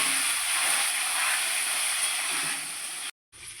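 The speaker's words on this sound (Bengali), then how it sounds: "এখানে আমি কড়াইতে আলু আর টমেটোটা দিয়ে দিচ্ছি।" Potato and tomato sizzling as they go into a hot wok in a vegetarian cabbage curry, a steady close hiss of frying that drops out abruptly near the end, then briefly resumes.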